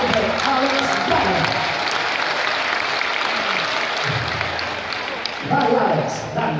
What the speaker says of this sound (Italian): Un bel applauso per Alex Danna.